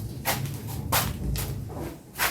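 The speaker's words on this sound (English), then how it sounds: "Okay, now we close the door" A metal motor panel box door is swung shut, giving a few sharp clanks and bangs at close range against a low background hum, with no speech.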